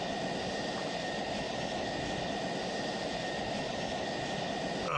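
An F-16 jet engine in a flight video game gives a continuous, loud, even roar with a steady whine on top, holding level without pause.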